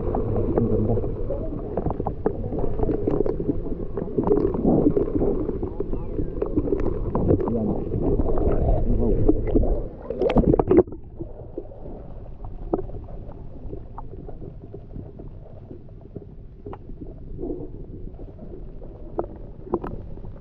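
A camera submerged in a freshwater spring picks up muffled underwater rumbling and sloshing, with a louder thump partway through, then a quieter, dull ambience.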